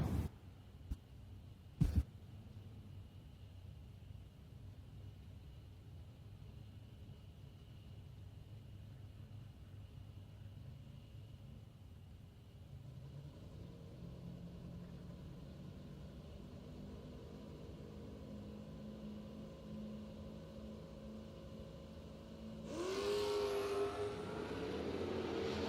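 Drag racing cars, including Curly DeLee's Corvette, launch down the strip at a Labor Day bracket race: a steady low engine rumble builds, then a loud roaring burst near the end.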